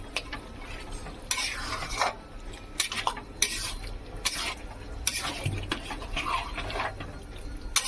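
Mutton curry is stirred in a pot over a low flame. A spoon scrapes and clinks against the metal in irregular bursts over a faint simmering sizzle, close by, with no talk.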